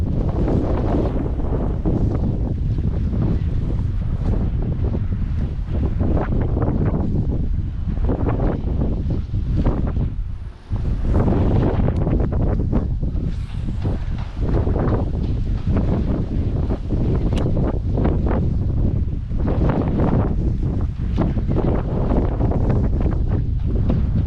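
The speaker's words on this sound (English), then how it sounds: "I'm at the mercy of the wind right now" Strong wind blows outdoors during a grinding session, loud, constant rumbling buffeting across the microphone for the whole stretch with only one brief lull, and no voices.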